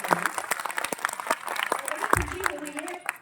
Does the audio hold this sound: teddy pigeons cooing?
no